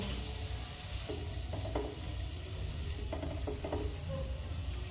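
Chicken tikka sears in a pan over low-to-medium heat, giving a faint, continuous sizzle with a few brief scraping clicks as the pieces are turned, heard close and without talk.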